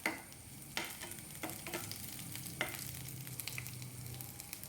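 Curry leaves and shallots fry in hot oil for a tomato curry, a steady close sizzle broken by several sharp clinks and scrapes of a stirring spoon against the pan.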